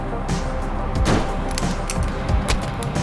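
Gunfire from a mobile zombie shooting game, a quick series of loud sharp shots and booming hits spaced about half a second apart.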